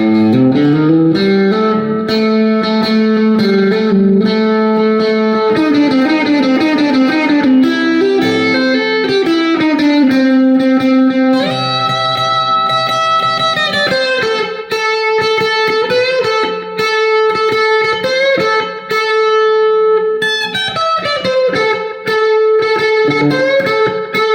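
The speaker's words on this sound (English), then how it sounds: "And more of a general fuzz, still on the bridge." Fuzzy electric guitar on the bridge pickup plays a bright, cutting melodic line with sustained notes and bends, loud and unaccompanied.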